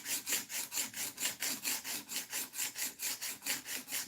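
A knife blade is stroked against a stick to sharpen its edge, producing rapid, regular rasping strokes, about four per second, close and steady with no talk.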